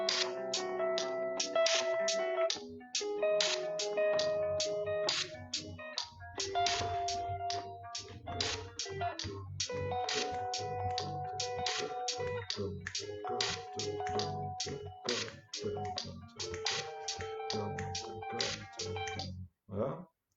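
Bass and guitar play interlocking polyrhythmic patterns over a 776 cycle, a dense, busy texture of plucked notes with a low bass line and percussive attacks throughout.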